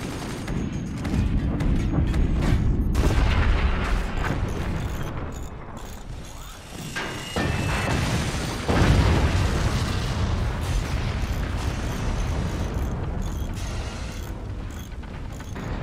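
In the Forts RTS video game, a core is destroyed amid a barrage of cannon and flak fire, bursts of explosions and mechanical clatter rising and falling, with a louder blast midway and no talk.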